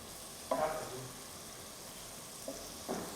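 Ginger and garlic paste fries in a pan for dal makhani, making a faint, steady sizzle with a few soft stirring scrapes.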